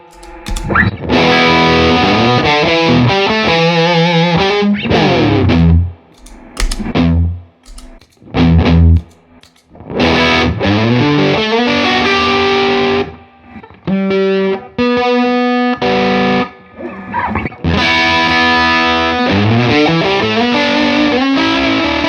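Supreme guitar effects pedal with compression, driven guitar chords and single-note riffs with sustained, squeezed tone, alternating phrases separated by short gaps, loud and close with no talking.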